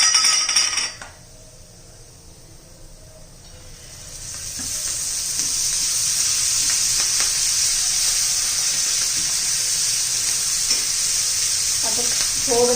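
Mint leaves and green chillies hitting hot oil in a pan, an opening clatter followed by a quiet pause, then a strong, steady sizzle that swells and holds, with occasional stirring clinks near the end.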